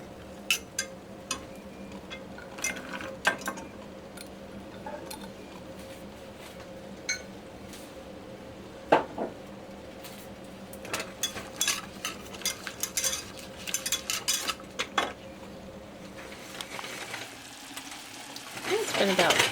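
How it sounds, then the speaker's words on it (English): Celery cooking in butter in a pan, a soft steady sizzle with scattered clicks and taps of a utensil, fairly quiet and close, growing busier toward the end. "And then the celery gets cooked for 2 minutes in the butter."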